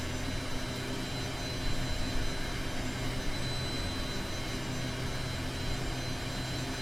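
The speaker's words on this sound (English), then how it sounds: "Spool up a little bit here." An aircraft engine spooling up in the Microsoft Flight Simulator video game, a steady broadband roar with an even, sustained hum and no break.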